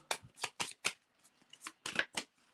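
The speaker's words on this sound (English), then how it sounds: "Give these a shuffle." Trading cards from a Marvel Ages box break, a mix of Spider-Man and Marvel vs. DC cards, shuffled by hand in a series of close, crisp riffling bursts with short pauses between them and no voices.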